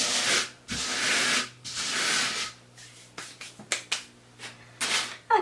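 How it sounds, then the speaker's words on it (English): Wood filler on a wooden hat block is sanded by hand in long, raspy strokes at first, then in shorter, quicker rubs, close up and fairly quiet. "I'll then sand this and apply another 2nd coat."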